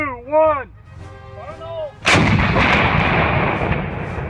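An 88 mm cannon on a Tiger tank fires once with a sudden, very loud blast, which rolls into a long, dense rumble that lingers for over two seconds. Before the shot, a voice gives a brief countdown.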